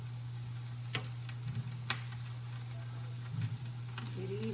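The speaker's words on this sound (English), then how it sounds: "Sausage is cooking." Sausage frying in a pan on a stovetop, a faint steady sizzle with scattered ticks and small pops over a constant low hum, with no talking.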